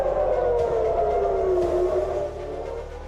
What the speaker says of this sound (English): The sirens sounding in Israel earlier this morning